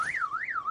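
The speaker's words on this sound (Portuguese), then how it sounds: "É o alarme do meu carro." A car alarm siren warbles up and down in smooth electronic sweeps, close and fairly loud, about two cycles heard alone.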